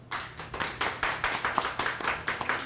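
Steady, rhythmic hand clapping from an improv comedy audience, a dozen or so claps at an even pace, sounding like a small group rather than a big roaring crowd.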